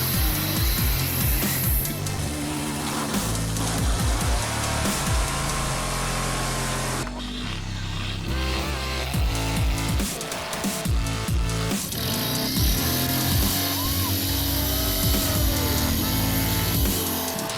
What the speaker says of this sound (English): an 80-level chainsaw with a powerful engine and dozens of horsepower cutting